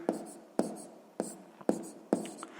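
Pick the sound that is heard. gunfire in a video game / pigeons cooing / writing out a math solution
writing out a math solution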